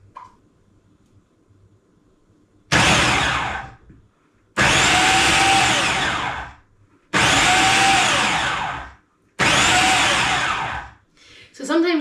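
Kenwood MultiPro Compact FDP31.170GY food processor pulsing salsa: four loud whirring bursts of the motor and chopping blade, each a couple of seconds long, separated by short quiet pauses.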